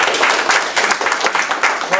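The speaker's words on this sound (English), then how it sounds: "Let's give her a round of applause." Brief burst of clapping from an audience at a lake association meeting, dense and steady for about two seconds with possible voices mixed in.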